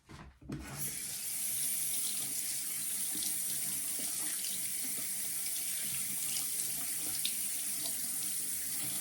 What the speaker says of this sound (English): So let me go ahead and rinse.